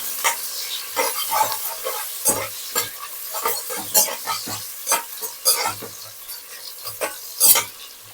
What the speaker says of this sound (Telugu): అందులో ఉల్లిపాయ వేసాం కదా, ఇప్పుడు ఒకసారి కలిపేసుకుందాము